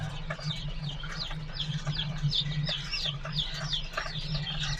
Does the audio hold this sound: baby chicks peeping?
yes